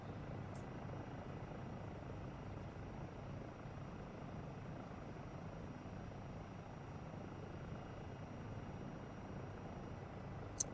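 A helicopter flies in a PSVR 2 video game, a steady, even rotor and engine drone that holds at a constant level for the whole stretch, with no talk over it.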